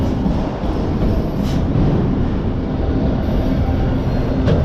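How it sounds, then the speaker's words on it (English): A long freight train rushing past at speed near the water in Oakland, a loud, steady rumble of wheels and rail noise that never lets up, with occasional high squeals. "That's a long train. I think this is the end of it right here."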